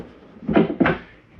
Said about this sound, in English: Extension drawer.